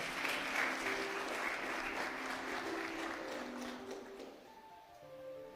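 A church congregation applauds together after a blessing, a dense steady wash of clapping that fills the room and thins out toward the end.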